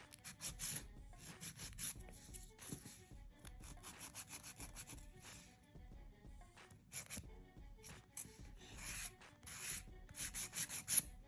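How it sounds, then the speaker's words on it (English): Builder gel nails being filed along the sides with a 100 grit file, giving quiet, close scratchy rubbing strokes in irregular short bursts with brief pauses between. "this is a 100 grit. So I'm gonna file the sides."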